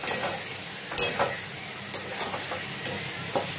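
Paneer fries in a pan with a steady sizzle, broken by occasional stirring scrapes and soft clinks; no voices are heard.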